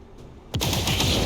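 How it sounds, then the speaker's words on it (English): Iron Curtain cannons fire in the XCOM Long War of the Chosen video game: a quiet lead-in gives way to a sudden loud blast, followed by a rapid, dense volley of booming shots rolling on to the end. "I can hit them with Iron Curtain, though, so let's do that. Cannons away!"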